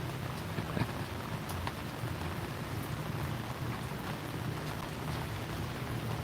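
Steady rain falling in Vientiane, Laos, a dense continuous hiss with occasional sharper drop ticks and a faint low hum beneath, no voices.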